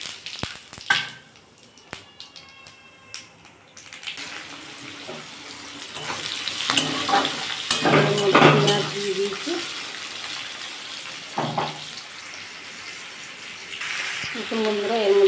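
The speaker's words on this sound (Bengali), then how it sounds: "এর মধ্যে একটু শুকনো লঙ্কা আর সাদা জিরে ফোড়ন দেবো।" Dried red chilies and white cumin seeds hit hot oil left from frying fish, bursting into a loud crackling sizzle after a quiet start, with scattered sharp pops and utensil clatter building and then easing off.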